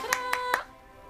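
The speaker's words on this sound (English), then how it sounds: "A little round of applause may be in order." Three distinct hand claps, spaced evenly and close by, with a faint tonal hum underneath and quiet after the last clap, a small, sparse round of applause indoors.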